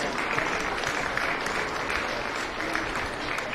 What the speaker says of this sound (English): Let's go and give our senior exhibitors a great round of applause